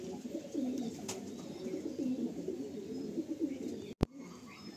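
Pigeons coo in a steady, close rhythm of repeated low rolling calls, with a brief sharp knock near the end and no talking.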